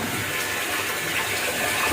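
Water runs steadily into an empty tank in a new house, a continuous broadband rushing gush at fairly loud level with no pauses and no speech.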